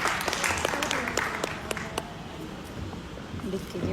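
Audience applause at a live song launch event in Lucknow, a steady wash of clapping from a crowd that holds throughout at moderate level with background chatter underneath.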